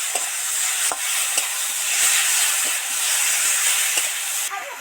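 Bitter gourd and potato pieces sautéing in hot oil in a pan: a continuous close sizzling hiss with occasional sharp clicks from stirring, no voices.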